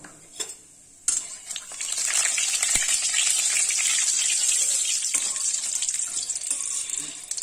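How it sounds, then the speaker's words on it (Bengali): Black cumin seeds splutter in hot oil in a kadai, a loud, steady crackling sizzle that starts suddenly after a brief clatter and continues unbroken at close range. "তারপরে ওর মধ্যে গরম তেলে দিয়ে দিচ্ছি কালো জিরে ফুটুন"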